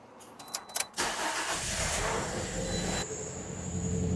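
Toyota Corolla engine with a misfire cranks after a few short clicks, then catches and runs roughly with a steady, uneven idle, close and fairly loud, and no voices.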